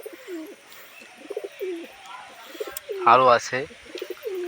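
Pigeons on a home rooftop coo in soft, repeated bursts, with a louder cluster of calls midway, while someone talks over them nearby.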